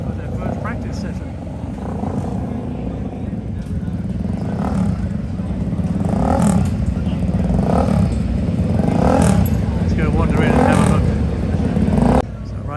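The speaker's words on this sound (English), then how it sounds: "These two bikes coming out, these are Southern Honda sponsored bikes. These are 500 cc's. They're heading out for their first practice session." Pair of Southern Honda-sponsored 500cc racing motorcycles pulling out of the paddock onto the Road Atlanta track for a first practice session, engines droning steadily with several rising revs, moderately near, with crowd and ambient noise underneath.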